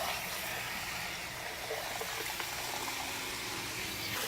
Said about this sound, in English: So you really want to make sure you rinse it out.